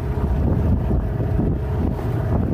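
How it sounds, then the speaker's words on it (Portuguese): Wind buffeting the microphone on a small fishing boat out at sea, a steady loud roaring rumble with gusty low-frequency flutter and no voices. "O vento entrou também, entrou um ventinho."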